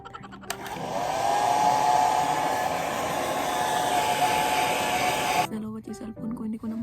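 A hair dryer used on conditioned hair in a quiet home in Japan switches on with a click and rises into a loud, steady, close whir with a faint whine. It stops abruptly, and a voice talks briefly afterward.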